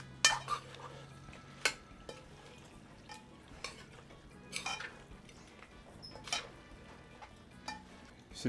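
Utensils scrape and clink against a pot as turkey meat is stirred into cooking curry, with a soft sizzle underneath; close, intermittent clatters.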